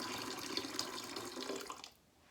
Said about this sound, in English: this is approximately 10 ounces of water. I'm gonna put about half in